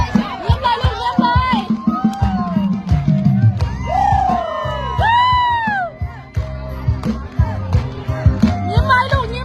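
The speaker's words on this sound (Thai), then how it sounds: "เอาเชียร์พี่น้องเชียร์" A large crowd of Lao students cheering and shouting at a Lam Tang Wai folk dance performance, loud whoops and rising yells layered over rhythmic drumming and music, voices carrying throughout.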